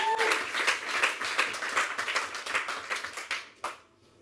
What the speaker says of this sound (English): Another, guys, round of applause one more time,